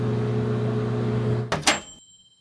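Microwave oven in a video game humming steadily with a low drone, then a sharp burst of beeps or a door clunk near the end before it falls quiet; no talking.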